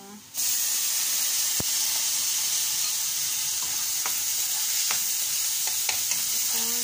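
Tomato hits browned onions in a hot pan and bursts into a loud, sustained sizzle and hiss, with scattered clicks and scrapes of stirring throughout.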